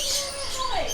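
Lorikeets in an aviary at Jurong Bird Park give a dense racket of shrill, overlapping chirps and squawks, loud and close, with a falling whistled call near the end.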